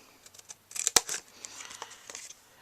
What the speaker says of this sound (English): we are going to cut up to that first score line